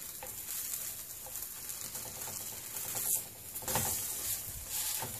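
Bread uttapam cooks flat in a hot pan, giving a continuous close hiss and sizzle with a brief louder crackle partway through.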